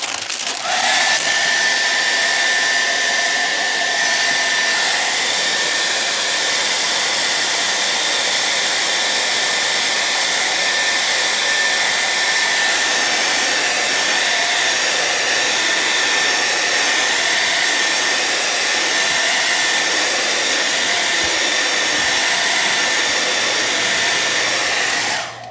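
A hairdryer blasting steadily at close range while heating old tint film on a car window, a loud continuous whine with a high tonal note that holds unbroken for the whole stretch.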